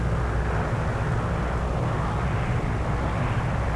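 Steady, loud drone of World War II bomber aircraft engines, a Lancaster and a B-17, in the War Thunder game, continuous and even throughout with no talk.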